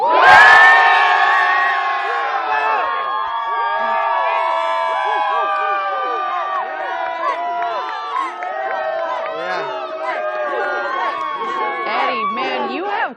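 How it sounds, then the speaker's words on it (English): A large crowd at the Blue Origin New Glenn rocket launch site cheers and whoops loudly, a dense swell of many voices with shouts rising and falling throughout. "Quite the crowd down there"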